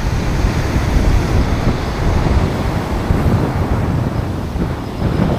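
Steady, loud ocean surf rolls and washes along a beach where someone is surf fishing, a continuous roar mixed with wind buffeting the microphone, with no voices.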